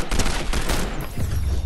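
Gunfire in a no-build video game match, dense and loud, crackling across the whole moment with repeated sharp reports rather than a single isolated sniper crack.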